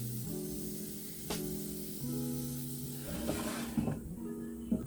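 Food sizzles and hisses inside a Kyowa digital air fryer with a soft, steady crackle, while a low electrical hum and a few faint clicks and knocks sit underneath.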